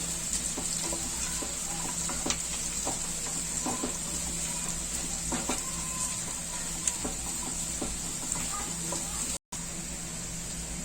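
Ginger, garlic, green chillies, Kashmiri red chilli and cashews frying in a pan for matar paneer, a steady sizzle under repeated scraping strokes of a spoon, continuous and fairly close, briefly cutting out near the end.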